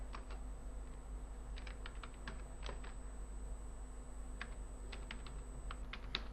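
Keys on a computer keyboard clatter in quick irregular bursts with short pauses while code is entered in Android Studio, quiet and close with no voices.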